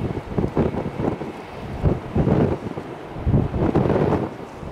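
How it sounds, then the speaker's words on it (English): Strong wind buffets the microphone in heavy, rumbling gusts that rise and fall, roaring loudly and continuously throughout, at an airport runway spotting spot in Tampa. "Whoa, that wind."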